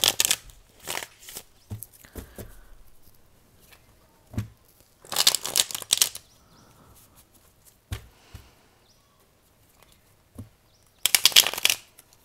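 Tarot cards shuffled in several short bursts of riffling and flicking, separated by quiet pauses, close and fairly crisp with no talking.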